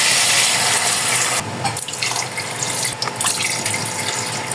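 Three glasses of water are poured into a cooking pot holding chicken for tinola, a loud, close splashing rush that breaks into separate gushes as each glass empties, with no talking.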